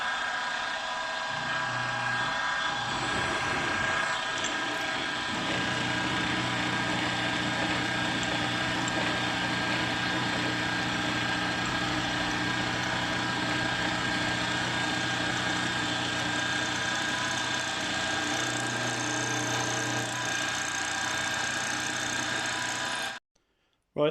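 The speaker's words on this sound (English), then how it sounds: "Just going to machine the 2nd slot." A milling machine cuts the second slot in a part for a 2-inch scale Fowler Showman's traction engine model. It gives a steady, continuous mechanical drone with a grinding cutting noise that stops abruptly at the end.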